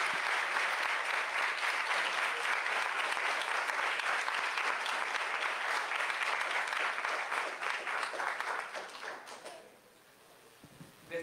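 An audience at a seminar closing breaks into sustained applause, many hands clapping steadily at a moderate distance before the clapping thins and fades out near the end.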